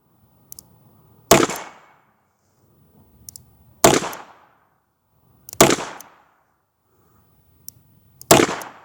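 A Hi-Standard Double Nine .22 LR revolver fires four sharp, loud double-action shots spaced about two to three seconds apart, each preceded by faint mechanical clicks of the action.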